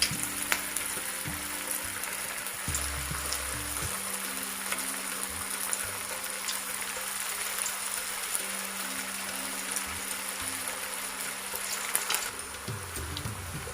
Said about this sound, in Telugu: ఇప్పుడు మనం ఇందులో ఆయిల్ వేడైపోయింది. ఇప్పుడు ఇందులో బాల్స్ వేద్దాము.